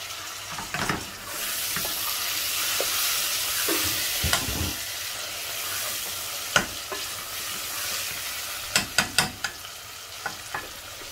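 Tomatoes and spices cook in a pan with a soft steady sizzle, broken by several sharp scraping and stirring clicks from a utensil, with no talking.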